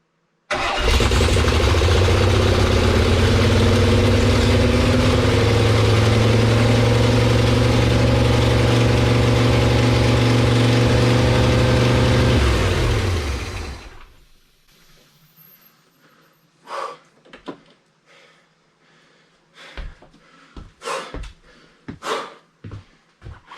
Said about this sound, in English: It runs, guys. It friggin' runs. But it was revving, really revving on me.